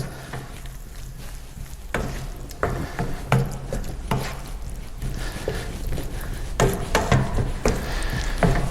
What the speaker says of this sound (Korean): 그리고 잘 섞어 주시면 됩니다.